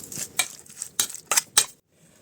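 A utensil scrapes and clinks against a bowl in several short strokes, mixing chicken thigh pieces with seasoning and salt up close before the stirring briefly stops.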